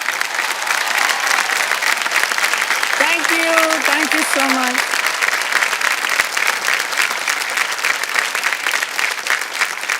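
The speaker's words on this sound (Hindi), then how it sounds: "तालियां बज जानी चाहिए जोरदार" Loud, sustained applause from a large crowd fills the whole stretch, with a voice briefly speaking over it.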